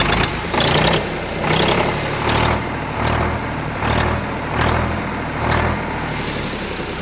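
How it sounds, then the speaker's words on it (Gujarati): An Eicher 368 tractor engine idles just after starting, a steady low diesel rumble with a regular pulsing surge roughly every second, close by and with no talk over it. "તમે જોઈ શકો છો, એન્જિન સ્ટાર્ટ કરી દીધું છે આપણે"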